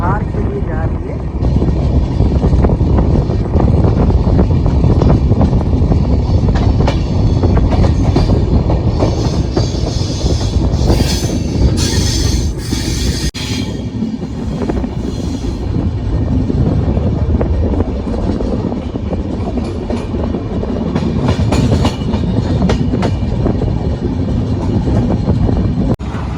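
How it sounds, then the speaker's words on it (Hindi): The Delhi Pathankot SF Express train pulls away from a station platform with a steady loud rumble and clatter of rolling wagons. Someone talks over it throughout. "ट्रेन अपनी चल दी है"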